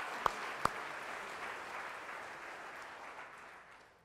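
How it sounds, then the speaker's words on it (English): Church congregation clapping after a call to give thanks, a dense wash of many hands at moderate distance, steady then gradually fading, with two sharp isolated knocks near the start. "Give the Lord a clap."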